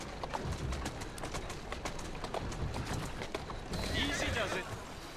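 Horse hooves clip-clop at a steady trot in Assassin's Creed Syndicate, with rapid rhythmic knocks continuing under spoken dialogue.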